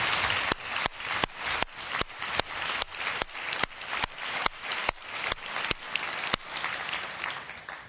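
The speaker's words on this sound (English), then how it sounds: "let's begin just by giving another round of applause to Judge Pat Wald" A banquet audience at the 2008 American Constitution Society national convention applauds Judge Pat Wald. The clapping is dense and sustained, moderately loud, with a faint recurring beat running through it and no voices on top.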